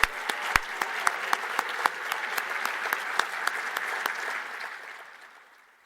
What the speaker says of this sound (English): Let's give our honorees a round of applause.